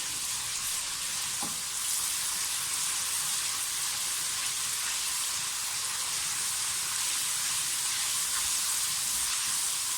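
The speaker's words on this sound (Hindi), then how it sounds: "लहसुन को अदरक को थोड़ा सा भून लें ताकि इसका जो फ्लेवर है वो अच्छी तरह से ऑयल में शामिल हो जाए" Garlic and ginger fry in hot oil for a chicken karahi, giving a steady, close sizzle and crackle that holds evenly throughout with no voices.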